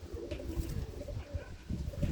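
Soft, repeated cooing of pigeons, racing birds kept for flying contests, rolls on steadily at close range with no talk over it.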